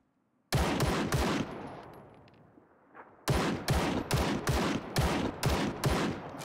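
An M4 rifle fires in the video game Ring of Elysium. Three loud, close shots come first, then a fading echo, then a rapid string of about seven more sharp shots.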